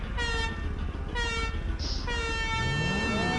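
A car horn in GTA blasts in a long, steady, loud honk over continuous engine and road noise, sounding much like a truck or train horn.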